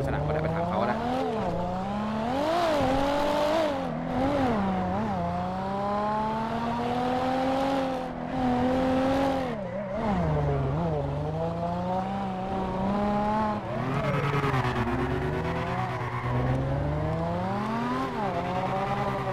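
Nissan GT-R R35 in GTA V, its engine revving hard toward 9,000 rpm, a loud continuous rising and falling roar with repeated throttle swells and brief dips across the whole stretch, no talking.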